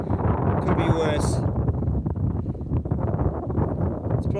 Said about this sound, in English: Yeah, a little bit windy.